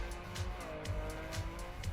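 A new rally car races in the Trackmania video game, its engine droning steadily with whining revs and recurring tire squeal, close and continuous throughout.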